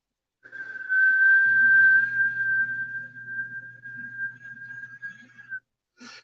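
A person whistles a long, steady, drawn-out tone, imitating a Bigfoot early-morning callback whistle. The whistle is close and clear, with a low hum underneath partway through, and it ends in a brief noise.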